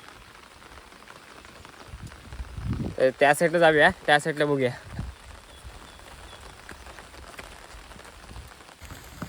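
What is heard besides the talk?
rain falling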